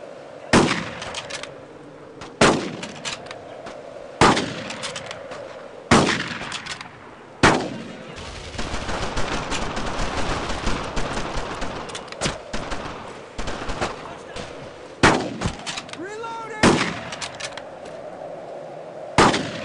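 Gunfire from Brothers in Arms, a World War II shooter: sharp, loud single shots land every couple of seconds, and a sustained burst of machine gun fire rattles through the middle amid clangs and echoes.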